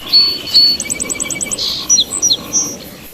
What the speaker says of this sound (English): The song sparrows and the birches.